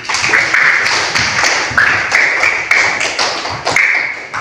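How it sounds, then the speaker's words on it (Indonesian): Students in a classroom clapping together in a rhythmic patterned clap, sharp repeated slaps in short groups, close and loud, with voices chanting along. "Tepuk tangan untuk kalian semua."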